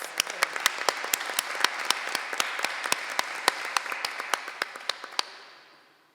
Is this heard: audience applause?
yes